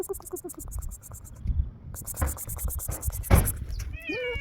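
A cat meows at close range, with a few short calls early on and a rising, wavering meow at the end, among soft thumps and a quiet voice.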